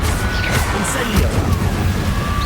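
The Incendio fire spell in Hogwarts Legacy gives a loud, dense, roaring burst of fiery noise with crackling impacts that fills the whole moment without a break.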